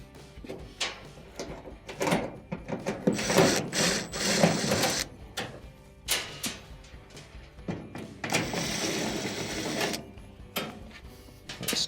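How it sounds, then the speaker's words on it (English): Phillips screws come out of the top panel of an LG dryer in close, uneven bursts of mechanical whirring and clattering, with brief quieter gaps between them. "there are 3 Phillips screws that will need to be removed."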